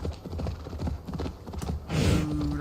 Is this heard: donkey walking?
yes